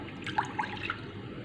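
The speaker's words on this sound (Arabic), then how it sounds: "وهنايا عندنا نص كاس ماء" Half a glass of water is poured while making a caramel dessert, a short, faint trickle with a few small drips and splashes, with no voices.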